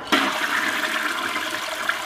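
A public restroom toilet flushes in one loud continuous rush of water that runs steadily for about two seconds, close up and heard alone with no voices.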